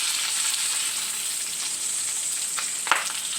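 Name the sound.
bacon frying in a pan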